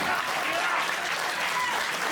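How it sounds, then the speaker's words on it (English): A wrestling arena crowd claps and cheers in a steady, dense roar of applause throughout, loud and continuous, with voices mixed into the noise. "you hear the crowd go solidly behind the Superfan"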